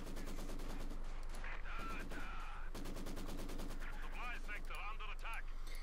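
Dense, sustained machine-gun fire from a veteran Maxim in the strategy game Company of Heroes 2, a continuous rattling barrage with a voice heard over it.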